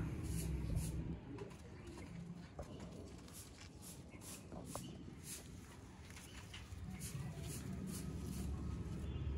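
Pigeons keep cooing in low, overlapping calls throughout, with faint clicks and shuffling around them and steady ambient noise underneath.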